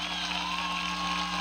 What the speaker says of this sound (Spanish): Un aplauso para todo el pueblo de México